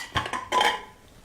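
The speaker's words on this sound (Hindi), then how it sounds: "तो अब हम कुकर को खोलेंगे" Metal lid of a pressure cooker being opened after cooling, holding rice pulao, with a few close, sharp metallic clanks and scrapes in quick succession.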